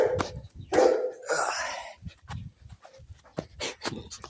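A dog pants and snuffles close to the microphone in quick, uneven bursts, mixed with scuffling movement and a few short vocal noises.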